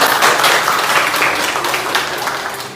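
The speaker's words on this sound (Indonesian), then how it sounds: "tepuk tangan untuk teman-teman" An audience in a university setting claps in thick, continuous applause that stays loud and steady, easing slightly toward the end.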